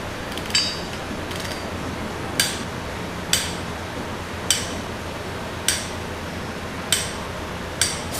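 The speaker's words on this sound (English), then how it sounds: "Now we're gonna torque down the flywheel bolts, 45 foot-pounds." A ratchet torques down the flywheel bolts on a Mazda RX-8 rotary engine, sharp metallic clicks landing roughly once a second over a low background hum, close and clear with no talking.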